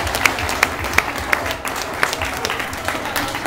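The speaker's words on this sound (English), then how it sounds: "give all of our contestants a big round of applause" Wedding guests clap for dance contest contestants, a moderate crowd of hands with a few sharp, loud nearby claps standing out above the steady patter.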